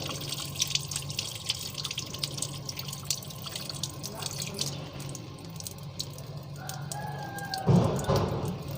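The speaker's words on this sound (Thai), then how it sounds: "เปิดน้ำหน่อยๆนึงนะครับ" Water trickling from a tap while a water heater's supply valve is being rinsed clean, a faint steady run with light dripping, and a rooster crows briefly in the background near the end.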